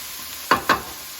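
Tomato and onion frying in a pan are stirred in two quick scraping strokes over a soft background sizzle, close and fairly clear.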